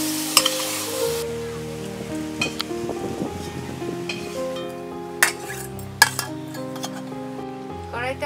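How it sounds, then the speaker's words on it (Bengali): Salted potatoes frying in oil in a wok for ghugni, a steady sizzle broken by several sharp clinks of a spatula stirring against the pan. "আলুর মধ্যে নুন দিয়ে দিলাম, আলুগুলো আমি ভেজে নিলাম,"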